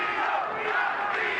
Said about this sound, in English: Crowd is chanting, Castillo, Castillo.